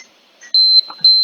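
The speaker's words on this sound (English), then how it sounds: "and then he can watch the blue, and then it beeps." Two sustained high-pitched electronic beeps from a visual countdown timer, each lasting about a quarter second, clear and close, with faint background noise between.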